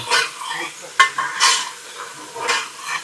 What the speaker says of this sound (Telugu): ఇది బాగా మగ్గేదాకా ఇట్లా కలుపుతా ఉంటే